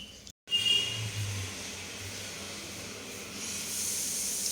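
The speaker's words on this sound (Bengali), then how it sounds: "পেঁয়াজটাকে বেশ লাল লাল করে ভাজতে হবে" Chopped onions frying in a pan for a Bengali yogurt chicken dish, a steady soft hiss of sizzling oil with a faint low hum beneath, continuing evenly after a brief dropout at the start.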